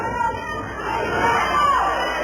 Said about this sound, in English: The crowd is really into this fight.